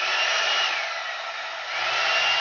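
A 2-in-1 hot air brush on high heat runs with a steady, close, loud blowing whoosh that dips slightly midway and then rises again, with no voices.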